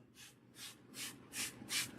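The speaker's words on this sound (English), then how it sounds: "So she sprays the hair." Spray bottle misting water onto hair during scalp cleansing, five short hissing bursts in an even rhythm, close and fairly soft.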